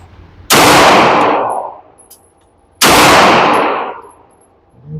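Kimber 2K11 Eclipse pistol fired at an outdoor range: two loud, sharp reports about two seconds apart, each followed by a long fading echo, with no talking.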